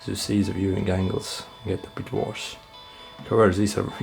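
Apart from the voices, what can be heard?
No everyday noises stand out.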